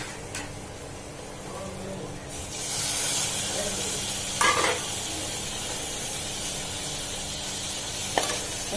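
Tomatoes hit hot oil for thanni salna and a loud, steady sizzle and hiss rises and holds, with a few scraping stirs in the pan.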